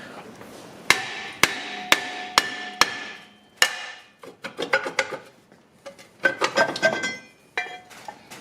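A big hammer strikes car brake parts on a 2007–2016 Traverse, Enclave or Outlook, ringing metallic blows at first evenly spaced about every half second, then quicker, clustered clanks and clinks, loud and close with no talking.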